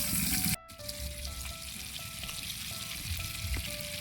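Longganisa sausage frying in a pan, a steady close sizzle with crackling spatter running throughout, after a brief dip near the start.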